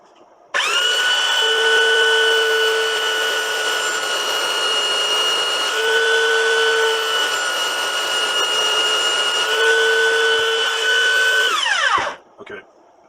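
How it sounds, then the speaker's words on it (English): A power grinder sharpens a lawn mower blade, running at a high steady whine for about eleven seconds with slight dips as it bites the metal, then spinning down abruptly, loud and close. "you can grind away some surface material when sharpening the blade"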